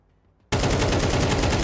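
Rapid automatic rifle spray in Counter-Strike, erupting suddenly after near silence and continuing as a loud, unbroken stream of close shots.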